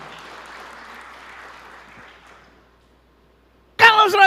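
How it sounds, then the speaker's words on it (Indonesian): Church congregation applause, moderate and fading over about two and a half seconds into near silence, before a voice cuts in loudly. "Berikan tepuk tangan."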